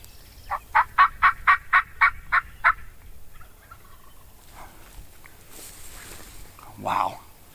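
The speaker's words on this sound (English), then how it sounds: "Got another one gobbling behind us." Wild turkey gobbling during a spring hunting season, a rapid burst of about eight gobble pulses from a distance, followed by quiet woods and a brief rustle.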